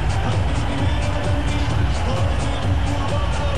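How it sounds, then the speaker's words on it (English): Large stadium crowd at an India versus Australia T20 cricket international gives off a dense, continuous roar and murmur of many voices, steady and loud throughout, with no single voice standing out. "Good crowd in."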